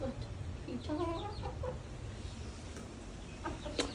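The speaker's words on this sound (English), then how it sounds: "They're all being good chickens and coming on the perching stick" Backyard chickens cluck softly as they settle onto a perching stick, several short calls close by over a steady low hum of background noise.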